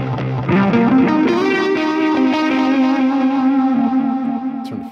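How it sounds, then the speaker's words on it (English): Electric guitar plays through a ping pong delay on a Line 6 POD Express: a loud, slightly distorted sustained phrase with echoes trailing behind each note, continuous for five seconds. "Ping pong delay."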